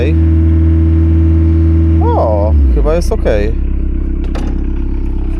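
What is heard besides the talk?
van engine running after fuel primer bulb replacement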